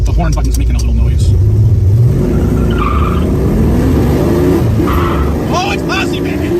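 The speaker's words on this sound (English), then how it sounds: "You gotta love these 351s backing up on a Hurst 4-speed shifter." A muscle car with a 351 engine and Hurst 4-speed shifter revs and accelerates loudly up close, with a tire squeal, while people shout excitedly over it.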